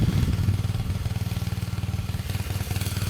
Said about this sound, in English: here's what it does when you till the garden